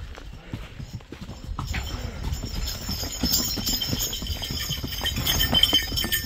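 Horses clip-clop steadily on the trek trail from Sari village to Deoria Tal in Uttarakhand, many close hoofbeats growing a little louder over a few seconds, with no talk.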